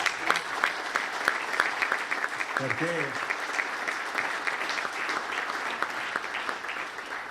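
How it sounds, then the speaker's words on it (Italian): An audience applauds an engineer with steady, crisp clapping that runs the whole time, and a voice speaks briefly over it partway through. "per la quale chiedo un super applauso"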